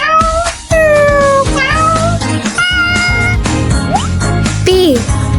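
A domestic cat meows loudly and repeatedly up close, several drawn-out, pitch-bending cries in quick succession over a busy bright background with a jingling tinkle.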